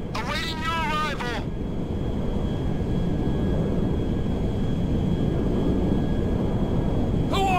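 A cargo jet engine in GTA V roars as a broad, steady low rumble with a faint high whine, continuous and close throughout. Brief bursts of game radio chatter break in at the start and end.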